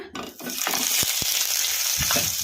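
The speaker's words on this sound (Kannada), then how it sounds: "ಈಗ ಇವನ್ನ ಕಡಾಯಿಗೆ ಹಾಕಿ ಫ್ರೈ ಮಾಡ್ಕೊಂಬಿಡೋಣ" Cut green tomatoes sizzle and fry steadily in a kadai on the stove, with a few short scrapes of stirring over the continuous crackle.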